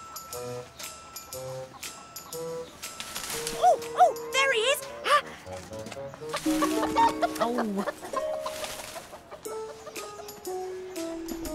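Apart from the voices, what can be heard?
chickens clucking in an animated show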